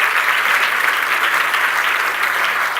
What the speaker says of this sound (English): We can give a big round of applause.